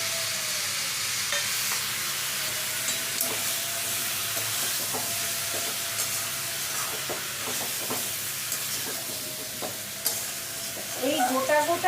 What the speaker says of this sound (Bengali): এইবার টমেটোটা দিয়ে দিচ্ছি।